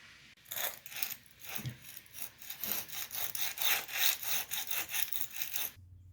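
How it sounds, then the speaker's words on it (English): A hand grout saw with teeth cuts grout between tiles during a repair of cracked tile, giving steady back-and-forth rasping strokes in a regular rhythm, loud and close, stopping abruptly at the end. "Using this grout saw with teeth. It does real good to kind of cut down in there."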